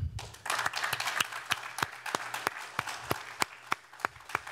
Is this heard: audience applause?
yes